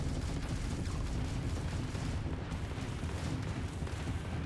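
A ship turret firing in the space game Starfield, delivering slow heavy booming shots over a constant rumbling engine drone, dense and low-pitched without talking.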